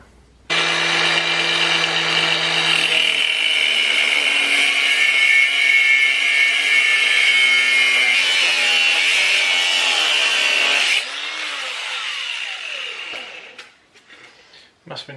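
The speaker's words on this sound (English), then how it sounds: "I'm going to grind through" An angle grinder cuts through a rear suspension part on a VW R32 under restoration. The loud, steady whine holds for about ten seconds, then its pitch drops and it winds down.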